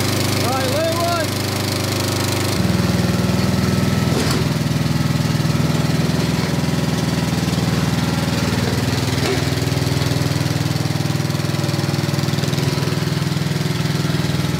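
Vintage 1990s Snapper riding mower engine starting up and running, a steady mid-pitched chugging drone that jumps louder early on and continues close and constant, with voices talking over it.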